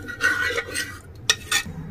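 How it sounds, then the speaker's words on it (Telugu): A metal spoon stirs a pot of moong dal with red chilli after a hot tempering is added, giving a few scraping strokes and sharp clinks against the vessel, close and clear. "పోపు ఇందులో పోసాము. మంచిగా కలిపెట్టుకోవాలి."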